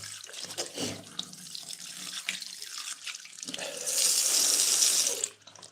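Hot water runs from a tap into a sink, splashing unevenly at first, then swelling into a louder steady gush before cutting off abruptly near the end.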